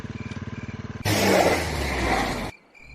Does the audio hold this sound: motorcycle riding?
yes